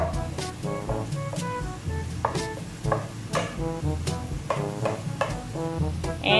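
Onions and garlic sautéing in butter in a pan, a soft sizzle under repeated spatula knocks and scrapes in an uneven rhythm, close by with no talk.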